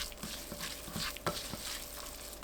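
Tofu being tossed with minced garlic, anchovy fish sauce, soy sauce and sesame oil, soft wet mixing and scraping with faint sizzle-like crackle and a couple of sharper clacks, no talking.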